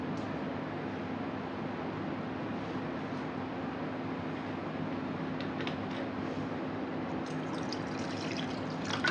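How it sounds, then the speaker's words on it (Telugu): Water being poured from a dal vessel into a pot of thick sambar, giving a soft continuous trickle and pour under a steady background hum, faint and even, with a few brighter splashes near the end. "కాస్త నీళ్లు పోస్తాం."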